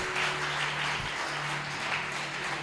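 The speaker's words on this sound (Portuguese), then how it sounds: "Só quem é livre pode aplaudir ao Senhor bem forte nesta noite" Congregation applauding vigorously during an evening church service, a dense steady clatter of many hands with a faint low hum beneath, continuing without speech.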